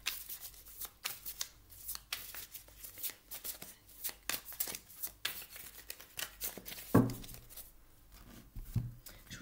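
Tarot cards being shuffled by hand, a soft close riffle of quick papery flicks and slaps repeating in irregular bursts, quiet and unaccompanied by talk.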